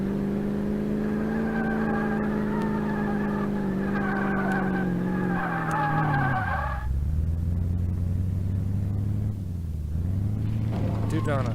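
Car in the video game Car Mechanic Simulator 2018 spinning donuts, engine droning steadily with tires skidding and squealing, the pitch dropping as it slows, with a voice speaking over it.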